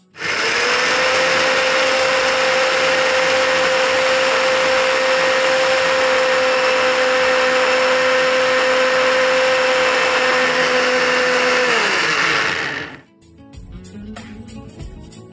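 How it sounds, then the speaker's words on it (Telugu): A kitchen mixer grinder grinds roasted spices with garlic cloves into a coarse powder for beans curry, a loud, steady whine that holds for about twelve seconds, then winds down into quiet clatter. "ఇందాక వేయించి పెట్టుకున్నాం కదా, పొడి కొట్టేసుకుందాం"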